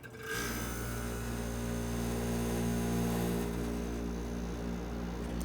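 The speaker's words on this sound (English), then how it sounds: "That really is a good sounding compressor." An air conditioner compressor switched on at low cool kicks in abruptly and settles into a steady low hum with a constant mechanical drone, close and unchanging, no voices.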